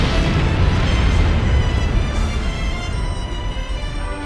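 Explosions in the video game Disgaea 4 roll on as a loud continuous booming rumble that slowly fades over a few seconds, with no talk.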